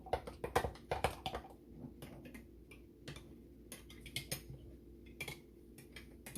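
Overnight oats, with pumpkin pie ingredients, are stirred together in a bowl, with quick irregular clinks and scrapes of a utensil against the dish, close and fairly quiet, with no talking.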